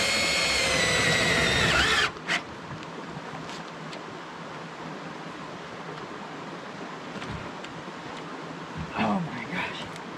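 Power drill driving a fastener with the bare chuck and no socket during gold dredge upgrades and a water heater install: a loud whine for about two seconds that stops abruptly, leaving quiet outdoor ambience with brief later sounds.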